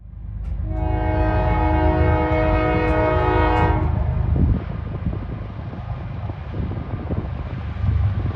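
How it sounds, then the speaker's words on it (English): A freight train's multi-chime air horn blares loud and close for a few seconds, then cuts off abruptly mid-blast, leaving only the rumble of the passing train and its rolling wheels. "the leader's horn froze midway through his cycle of blowing"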